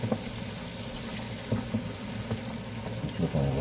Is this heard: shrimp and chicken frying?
yes